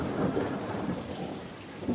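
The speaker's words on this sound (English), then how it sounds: "That is some loud thunder." Loud thunder rolls in a long, deep continuous rumble during a rainstorm, with rain hissing steadily underneath and no voices.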